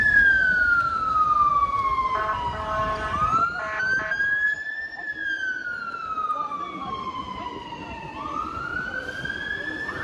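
Emergency vehicle siren on a London street, a fire engine heading to a call, wailing loudly and close in long rising and falling sweeps throughout, with traffic noise beneath.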